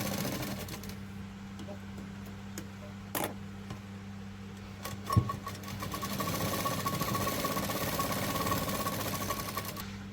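A domestic sewing machine stitches a blouse neckline, running in short bursts of rapid mechanical clatter separated by pauses, then settling into a steadier hum. It sounds close and fairly quiet.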